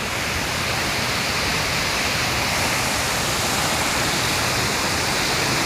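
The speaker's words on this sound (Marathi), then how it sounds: "आपण एक हिडन धबधबा शोधत आलेलो आहे" A hidden forest waterfall near Khed, with a cave beneath it, roars in a steady, loud, unbroken rush of falling water with no voices.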